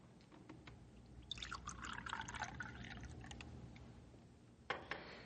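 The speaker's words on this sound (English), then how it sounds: "Here, I pour you one more cup of coffee, Rick." Coffee is poured into a cup in a radio drama scene, a soft liquid stream rising in pitch as the cup fills over a few seconds, followed by a light clink, with no voices.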